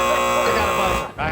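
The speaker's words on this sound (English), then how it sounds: "got a buzzer" A game show buzzer blares for about a second, a harsh steady buzz sounding loud and close, then cuts out abruptly with a brief quieter tail.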